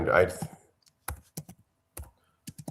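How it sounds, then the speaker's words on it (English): A computer keyboard gets a few sparse, separated taps after a brief burst of voice at the start, the keystrokes close and clear against near silence. "You're typing on a computer. I can hear it."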